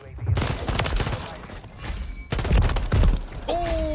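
Rapid bursts of DG-58 rifle fire in Call of Duty MW3, loud and close, in several clusters with short gaps and a brief game sound effect near the end, no talk.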